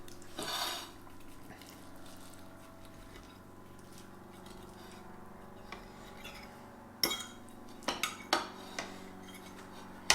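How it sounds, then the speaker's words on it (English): Knife and fork scraping and clinking against a plate while cutting a keto stromboli made with PSMF bread, a soft steady scraping with several sharp clinks near the end, close and fairly quiet, no talking. "Again, I was cutting it with this knife."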